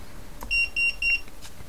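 Carbine digital lock beeping three times in an even rhythm as a Samsung Active S7 phone is presented to it, the tones loud, close and bright, standing alone without talk.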